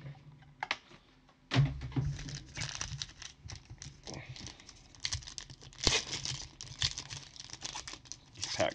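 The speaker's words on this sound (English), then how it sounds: "These packs never rip nice." Basketball trading card packs being torn open by hand, with a loud rip near the start followed by a long run of crinkling foil and rustling card handling up close.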